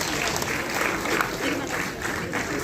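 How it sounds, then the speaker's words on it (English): An audience at an institutional diamond jubilee ceremony claps steadily for honored retirees, a dense sustained round of applause filling the hall from start to finish, with a voice faintly audible underneath. "I request everyone to give a big round of applause for the honored retirees"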